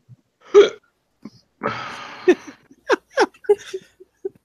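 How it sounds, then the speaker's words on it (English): A person hiccups several times in short, sharp bursts at irregular intervals during a tabletop roleplaying session, with a brief breathy laugh-like noise in between, close and fairly loud against near silence. "My hiccups?"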